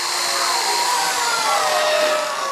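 A power drill runs steadily throughout a sword swallower's fair stage act, a continuous loud whirring with no talk over it.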